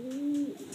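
A single soft, low pigeon coo, a brief rising-then-falling hum heard close but quietly over faint background noise.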